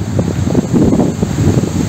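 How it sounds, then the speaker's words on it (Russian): Very strong dry wind blowing around a house yard, a loud continuous low roar buffeting the microphone, close and unbroken, with no talking. "Но ветер все вообще все выдувает."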